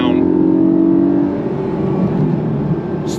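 A 2025 Porsche 718 Cayman GTS engine drones steadily while driving in traffic, a low, smooth hum that eases slightly after the first second, heard from inside the car.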